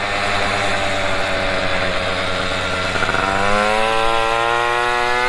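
A moped engine runs on light throttle with a steady, buzzing drone, its pitch rising smoothly partway through as the revs climb, loud and close with no voices over it.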